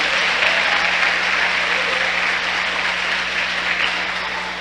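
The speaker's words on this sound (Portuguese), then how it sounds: "Dá uma salva de palmas ao Senhor" Congregation applauding at a church conference service, a continuous loud wash of clapping that tapers slightly toward the end, with a low steady hum underneath.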